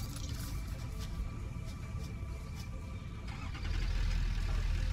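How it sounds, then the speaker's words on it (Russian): A tractor engine in the video game Satisfactory drones steadily up close, its rumble stepping up louder partway through as it revs. "Итак, мы драйв трактор."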